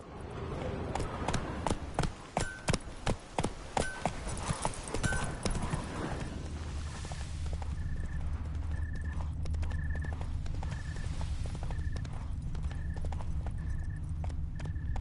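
Horse hooves clip-clop in a quick galloping rhythm in The Witcher 3, loud and steady for the first six seconds before fading into a continuous low rumble of ambient game sound with a repeating tone.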